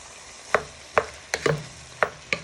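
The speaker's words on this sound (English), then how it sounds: "Now I'm going to add in the tomatoes, and you want to give them a good stir" Tomatoes stirred in a frying pan for beef goulash: six or so sharp scraping clicks of a utensil against the pan, spaced about half a second apart, close and clear over a faint sizzle.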